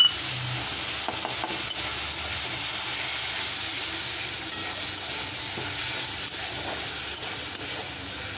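Ground spice paste sizzles in a frying pan of softened tomato for a tilapia fish curry, with a continuous hiss and the scrape of stirring throughout.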